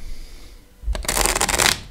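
A deck of tarot cards is riffle-shuffled once, a brief crisp fluttering burst close up after a moment of quiet.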